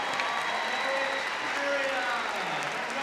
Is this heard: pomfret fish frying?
no